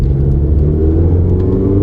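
A car with a solid 4-cylinder engine pulls away on the road, its steady low engine rumble and road noise filling the cabin as it accelerates, with no clear break for a gear shift.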